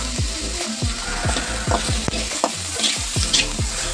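Onions fry in a pan for village-style fish soup under a constant hiss. Quick, rhythmic scraping strokes of a stirring spoon sit close over the sizzle, with no talk.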